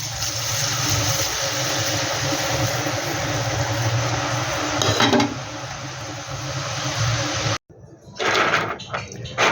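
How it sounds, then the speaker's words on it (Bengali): Homemade kurkure snacks fry in hot oil, giving a continuous dense sizzle with occasional stirring scrapes and clatter up close. The sound drops out briefly near the end, then resumes. "আমার আর কিছু আছে, সেটাও আমি ভেজে নিই একবারে।"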